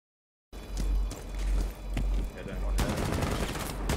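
Video game gunshots crack out in quick irregular bursts after a brief silence, then build into a denser volley toward the end, with faint footsteps mixed in.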